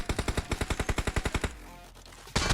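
Rapid burst of Uzi submachine-gun fire in PUBG Mobile, about fifteen evenly spaced sharp shots over a second and a half, then a short lull before another loud blast at the end.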